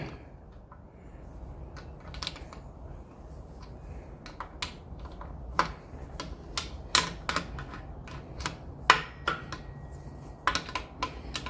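A bolt being tightened down with a wrench in a small workshop, heard as scattered sharp metallic clicks and ticks at close range, irregularly spaced over a low steady background, with no talking.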